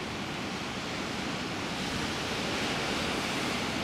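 Ocean surf on the Easter Island coast gives a continuous broadband roar, steady and fairly loud, with light wind and no voices.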